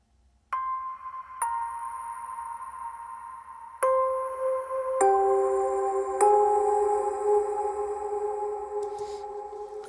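Bright guitar notes are struck one after another, each ringing out into a long, big, spacious reverb tail that layers into a sustained shimmering wash in a mix.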